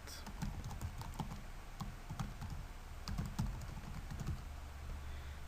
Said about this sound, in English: Just type in your email.